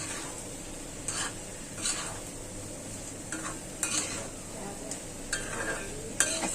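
Okra being stirred and fried in a pan in a home kitchen, a steady low sizzle broken by several short scraping stirs of a spatula against the pan, with no talk.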